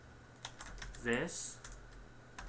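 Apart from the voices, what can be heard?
typing text on a computer keyboard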